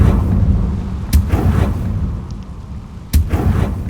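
Two sharp, booming blasts from a Confringo fire spell cast in the video game Hogwarts Legacy, each a sudden loud burst a couple of seconds apart over a low rumbling game background.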